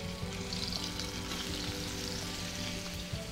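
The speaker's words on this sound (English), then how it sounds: "Now we'll add our oil, swirl to coat well, and we'll add the swordfish steaks." Swordfish steaks fry in oil in a preheated non-stick pan, giving a loud, continuous, even sizzle up close with no voices.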